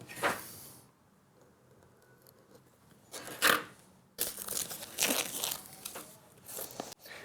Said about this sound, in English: cut it with my scissors.